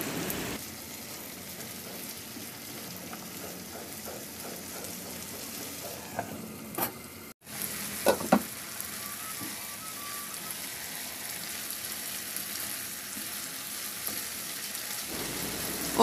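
String beans and pork belly cook in a pan, giving a steady, soft sizzle with a few brief clinks of a utensil partway through. There is no talk.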